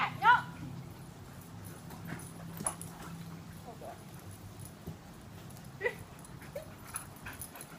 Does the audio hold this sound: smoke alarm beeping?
no